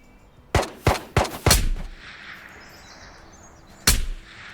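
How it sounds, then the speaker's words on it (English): Gunshots in the shooter game Ghosts of Tabor, four sharp loud reports fired in quick succession, then a pause with faint ambient outdoor noise and birds before one more single shot, with no talking. "Did he just shoot me through a rock?"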